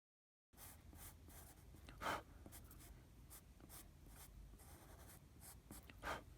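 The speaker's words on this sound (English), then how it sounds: "now I'm going to try to blend this again and sharpen the edges" Pastel being rubbed and stroked across paper while blending and sharpening a portrait, a soft, close scratchy texture with a few heavier strokes, otherwise quiet.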